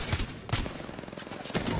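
Rapid gunfire in Apex Legends, a dense, loud fusillade of repeated shots rattling steadily with a few sharper bursts standing out.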